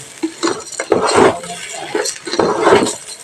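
Rice for biryani is stirred and fried in a pot, with loud, close clanks and scrapes of a spoon against metal in uneven bursts.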